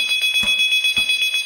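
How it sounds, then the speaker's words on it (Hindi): A phone rings in a dark store used for quick grocery delivery, a bright electronic warble repeating in quick, even pulses, clear and close with no talk over it. "एक डार्क स्टोर में फोन की घंटी बजती है।"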